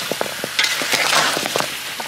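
Pork hock stir-fried with bean paste and five-spice sizzles and crackles in a hot pan, with quick clinks and scrapes of a utensil stirring, close and busy for a couple of seconds.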